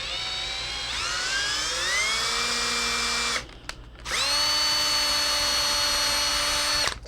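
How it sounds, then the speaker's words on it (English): A power drill turning a tap to cut threads whines steadily, its pitch climbing as it spins up, cuts out briefly midway, then restarts at full speed and runs evenly; close and alone, no talking. "Which is easier when you're not using a hand drill, like a power drill."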